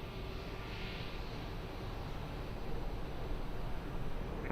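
An airliner's engines roar steadily on its takeoff run at Lisbon Airport, a broad, even rush of noise heard from a distance with no voices.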